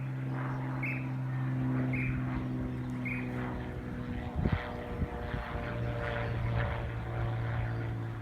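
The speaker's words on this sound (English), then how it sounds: "There he goes. Just like a little Cessna size, but it looks pretty new." Small Cessna-size propeller plane flying overhead near a house, a steady droning engine hum that holds throughout, moderately distant, with faint bird chirps over it.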